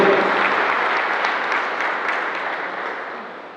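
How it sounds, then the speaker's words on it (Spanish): A church congregation at a Catholic Mass breaks into loud applause, sustained dense clapping that fades slowly, with no talk over it. "A veces una cosa también un fuerte aplauso."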